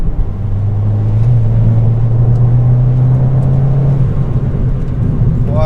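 Car with a Revo Stage 2 tune accelerating, a steady loud engine drone that rises slightly in pitch and then eases off, heard from inside the car.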